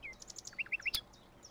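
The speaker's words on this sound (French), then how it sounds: "Vous entendez des oiseaux chanter" Birds chirping in a sunny, flowery garden: a quick run of bright, high tweets and short trills in a brief burst, fairly close and clear over quiet background.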